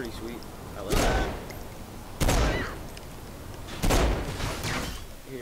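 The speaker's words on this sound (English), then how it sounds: "I'll pull up the pistol first. It looks kind of like the other one, but you can't shoot that fast." Three loud pistol shots from the video game Saints Row IV ring out about a second and a half apart, each a sharp blast with a short echoing tail.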